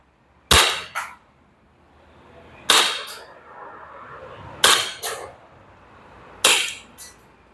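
WA M1911A1 gas blowback airsoft pistol fired four times, each a sharp crack followed quickly by the clack of the cycling slide, spaced about two seconds apart, loud and close with no talking.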